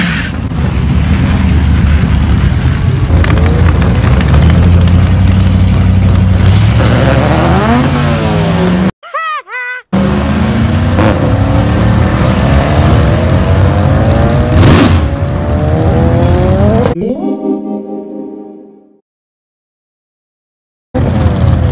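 A stock truck engine being tuned at a track, revving hard and climbing through the gears in long loud pulls, dropping briefly between runs before cutting out to silence near the end.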